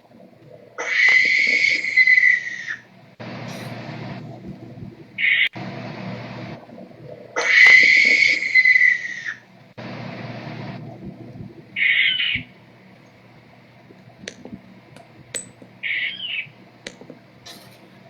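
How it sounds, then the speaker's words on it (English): Harsh, raspy barn owl screeches repeat several times, each a second or two long, with shorter shrill calls between them; close and loud, with no talking. "You were waiting for a barn owl to fucking screech"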